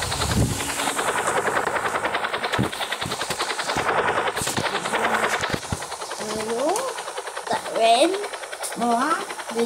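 A video game helicopter drones with rapid rotor chop alongside bursts of gunfire, steady and fairly loud, while people talk over it.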